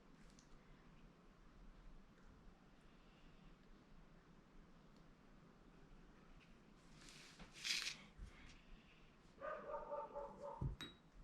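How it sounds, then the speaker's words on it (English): A dog barking somewhere off in the distance during a quiet indoor watercolor session, with a few short yaps near the end over low room noise. "That dog gonna drive me crazy."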